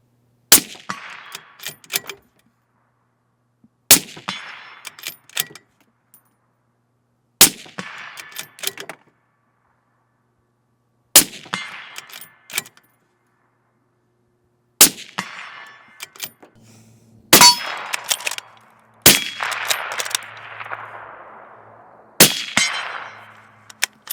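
Suppressed .308 rifle shots fired with Fiocchi ammunition from a long-range build with a backdraft barrel. Seven or eight sharp, muffled cracks come a few seconds apart, each ringing out briefly, with faint metallic clanks in between.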